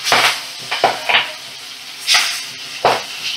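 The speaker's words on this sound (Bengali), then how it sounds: "মিডিয়াম ফ্লেমে রেখে মাছগুলো ভাজা করে নিচ্ছি।" Magur catfish frying in oil over a medium flame, bursts of sizzling and spattering with a few scraping stirs and pan clatters, close and loud, no talk.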